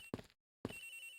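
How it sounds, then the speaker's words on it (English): A video game telephone rings in two short electronic bursts separated by a brief gap, heard faintly on its own. "It sounds like the phone is up in the flight attendant's room."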